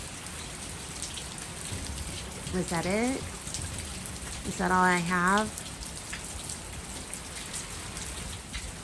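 Wind drives steady rain onto a porch in a constant close hiss during a stormy spell, while a person speaks briefly twice over it.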